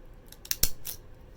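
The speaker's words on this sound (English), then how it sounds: "And then you just cut with these pretty scissors." Decorative craft scissors snip through scrapbooking paper for a handmade Christmas gift tag, a few short crisp cuts close by, the sharpest one near the middle, with quiet room tone around them.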